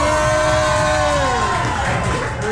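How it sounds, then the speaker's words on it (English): A loud, close crowd at a sumo event in Asakusa cheers and shouts continuously, a dense roar of many voices with whoops rising over it. "Make some noise."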